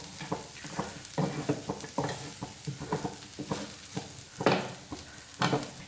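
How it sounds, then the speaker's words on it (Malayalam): Chicken with spice powders stirred and fried on a tawa, a quiet steady sizzle broken by repeated scraping strokes of a spoon against the pan in an uneven rhythm, with no talking. "ഒരു മിനിറ്റ് ഇതെല്ലാം കൂടി നമുക്കൊന്ന് മിക്സ് ചെയ്ത് കൊടുക്കാം."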